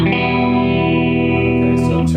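A single electric guitar rings out through one amp with reverb switched on, a sustained chord hanging loud and steady before fading into a short tail, close and alone.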